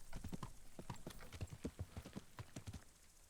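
Hooves of a fancy saddled horse clip-clop in the video game Kingdom Come: Deliverance, a brisk irregular series of close, clear strikes on hard ground with no talking over them.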